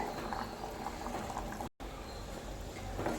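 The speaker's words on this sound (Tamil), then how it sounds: "இப்போ நல்லா கொதிச்சிட்ருக்குங்க" Steady bubbling of a pot of cowpea curry on the boil, continuous and close, with a brief dropout partway through.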